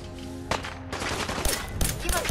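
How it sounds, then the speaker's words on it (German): Laser weapon fire from the Fallout 4 video game, rapid bursts of sharp zapping shots that crack loud and close in quick succession over a dense, noisy background. "die hat hier mit Laserstrahlen geschossen"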